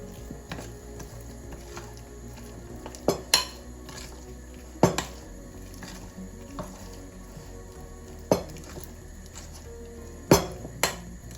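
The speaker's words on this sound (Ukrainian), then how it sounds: "додаємо нашу начинку і все гарно перемішуємо знову" A spoon stirs filling into sour cream cake batter in a bowl, mixed by hand with no mixer: a low continuous scraping broken by several sharp knocks and clinks against the bowl at irregular intervals, close-up and without speech.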